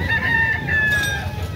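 A rooster at a chicken sale in Cebu crows once, close and loud, a short tonal call.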